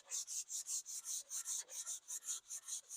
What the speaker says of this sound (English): we want to sand with the grain as much as possible